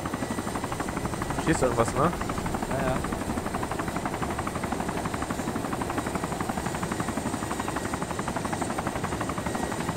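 A helicopter in the video game DayZ hums with a steady rotor thrum throughout, constant and fairly close, while players talk over it.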